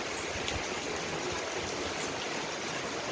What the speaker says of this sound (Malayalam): ഇപ്പം നല്ല മഴയാണ്, അതുകൊണ്ട് ശബ്ദത്തിനൊക്കെ ഒരു ചെറിയൊരിതാണ് അല്ലേ